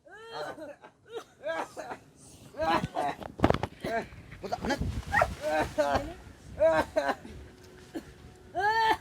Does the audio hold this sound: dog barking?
yes